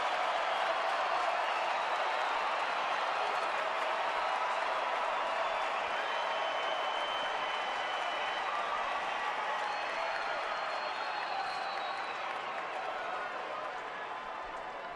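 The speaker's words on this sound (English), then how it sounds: "Crowd trying to get behind Young." Baseball stadium crowd at an Arizona game cheering on a batter, a steady broad roar of many voices that holds throughout and fades slightly toward the end.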